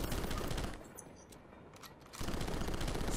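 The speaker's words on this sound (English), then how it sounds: "Why is my guy shooting by himself?" Rapid automatic gunfire from the game Rocketbirds 2 rattles in a dense burst, breaks off into a brief lull, then resumes just as loud.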